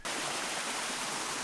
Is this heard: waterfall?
yes